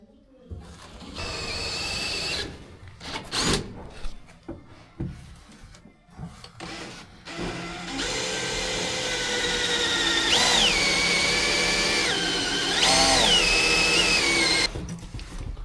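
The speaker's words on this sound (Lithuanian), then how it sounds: "Laikiklius pjaunu." Brackets for an Audi being cut with a power tool, a harsh whining grind that runs steadily with brief pauses and pitch dips, loud and close, with a few voices in the early seconds.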